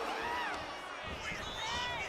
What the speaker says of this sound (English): The crowd is fired up.